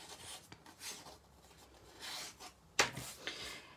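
A metal file scrapes along a slightly damaged blade edge in a few quiet, irregular rasping strokes, with one sharper, louder scrape near the end, close with no voices.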